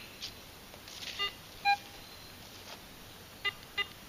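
An AT Pro metal detector gives short high target tones over a faint steady hum, a few separate beeps spread across the moment with a pair close together near the end.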